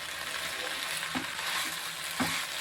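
Chopped onions and green chillies sautéing in oil for a drumstick-leaf (murungai keerai) stir-fry, giving a soft, steady sizzle with a couple of light spoon scrapes against the pan.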